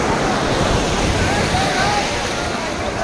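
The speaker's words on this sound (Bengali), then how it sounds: "সমুদ্র" Sea waves at Digha beach roll in as a loud, continuous broadband surf roar with wind buffeting the microphone, steady and close throughout.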